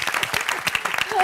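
Clapping on a Turkish word game show, with contestant Fatih among those applauding. Quick, close hand claps form a dense patter, and a voice speaks over them.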